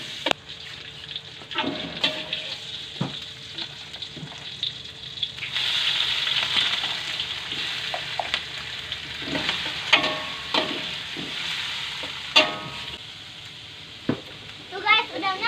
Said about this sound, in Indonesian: Sekarang Abi mau masukin bawang putih dan bawang merah, lalu dioseng-oseng